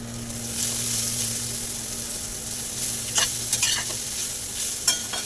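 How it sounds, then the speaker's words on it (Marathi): Maharashtrian thecha, a coarse green chili paste, sizzles steadily in a hot pan, with a constant frying hiss and occasional scraping stirs of a spatula toward the end. No one speaks. "अशा प्रकारे आपण हा सर्व ठेचा छानपैकी परतून घेऊया"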